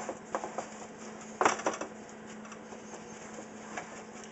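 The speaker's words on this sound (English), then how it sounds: "Take your spoon and go ahead and just mash it down." A spoon presses and mashes a cheesecake crust down into a pan, giving faint soft scraping and dull taps with one sharper knock, close and quiet with no talk.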